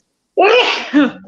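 A single sharp human sneeze bursting out of silence, close and loud, with a quick two-part shape before trailing off.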